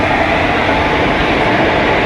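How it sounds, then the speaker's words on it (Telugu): Loud, continuous rumbling roar of a train arriving close by at a station, steady and broadband with no voices. "మొత్తానికి ట్రైన్ అయితే వచ్చేసింది."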